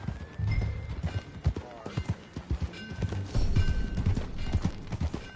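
Horse hooves in the video game Red Dead Redemption 2 clip-clop in a steady trotting rhythm, close and distinct, with a few voices talking over the movement.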